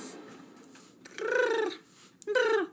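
A creature in the horror video game DARQ lets out two drawn-out, cat-like wailing cries, close and loud, separated by a short pause.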